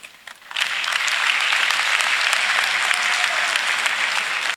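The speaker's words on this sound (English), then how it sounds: "I join those people in the audience to applaud Governor Peter Ubah on this strong and amazi" An audience at a Nigerian political gathering breaks into sustained, loud applause that swells quickly and holds as a dense wash of clapping hands.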